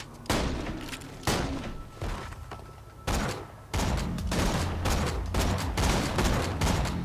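A sniper rifle in Borderlands 2 fires in quick succession, loud sharp booming shots in short bursts, some spaced apart, then a rapid string of reports near the end.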